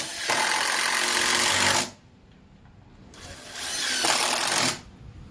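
A power drill drives into a wooden board anchoring a pry setup for breaking an ATV beadlock tire, giving two loud close whirring bursts separated by a short quiet gap.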